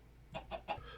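A gold chicken in the modded Minecraft pack Sky Factory 3 gives three short, close clucks in quick succession with no talk over them.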